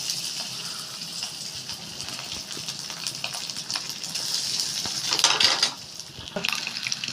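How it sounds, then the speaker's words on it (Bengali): Cornflake-coated chicken pieces, first dusted in cornflour, fry in hot oil in a wok with a steady crackling sizzle that swells into a louder burst midway, with no talking. "আমি কর্নফ্লাওয়ার দিয়ে মাখিয়ে রাখা চিকেনগুলোকে এবারে কর্নফ্লেক্সে কোট করে নিচ্ছি, নিয়ে আমি সেগুলোকে কড়ার তেলে দিচ্ছি।"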